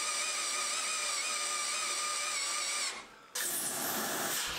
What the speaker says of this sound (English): I'm drilling out for the barrel of the latch with a 22mm auger bit